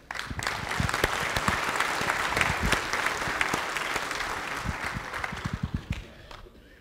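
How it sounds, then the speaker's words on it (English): A church congregation applauds during a Sunday service, a full steady wave of clapping that thins into a few scattered, separate claps before fading out. "I think we should all give a round of applause to Abbott, who did a wonderful job represent"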